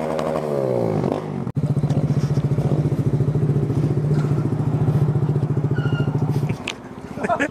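A Kawasaki Z motorcycle with a new aftermarket exhaust idles with a steady, rumbling pulse, then the engine chokes and cuts out near the end, leaving a faint sputter. Voices are heard over the engine.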